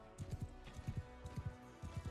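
Horse hooves gallop in the Mount & Blade 2: Bannerlord video game, with quick rhythmic clusters of thudding beats repeating steadily and close.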